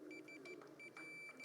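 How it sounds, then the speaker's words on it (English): Faint electronic beeps from a programmable light sculpture circuit, a series of short, evenly repeated high tones, quiet and clear with no talking. "Beeps."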